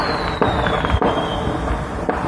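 A dense, continuous crackle of fireworks bursting nearby, with a few sharper pops standing out from the rapid popping.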